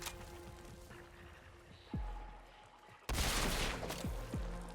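Gunfire in the Warframe video game: a few sharp shots with descending zips and a burst of bright noise near the end, over a steady game ambience, no talk.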